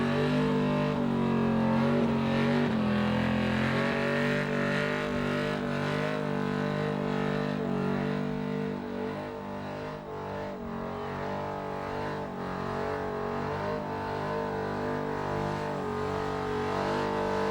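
A burnout car with a 308 engine under a big bonnet scoop revs hard and steadily at a burnout competition, a loud sustained roar holding for the whole stretch with slight dips in pitch and no talk.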